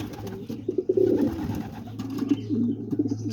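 Pigeons coo softly in a loft where mated pairs sit on eggs, several overlapping throaty coos rising and falling close by over a low steady background hum.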